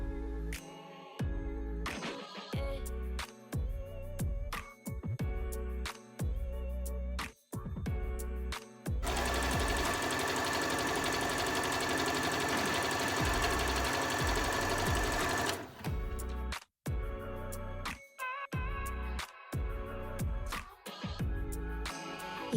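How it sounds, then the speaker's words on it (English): A sewing machine zigzag-stitches the side seam of a stretchy fabric, running in short, broken bursts, then one long, steady run of several seconds, then more stop-start stitching. The motor sounds close and loud, with no voices over it. "fold it in half and then sew along the side seam, again with a zigzag stitch because this material is stretchy"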